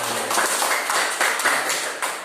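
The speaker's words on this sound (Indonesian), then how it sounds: "Kalau begitu tepuk tangan untuk kalian semua." A short burst of scattered clapping from a small group in a classroom, uneven and fairly close.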